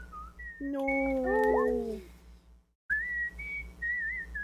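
A person whistling a wavering tune in several long sliding notes, with a brief pause midway, over a low steady hum and a short spoken word.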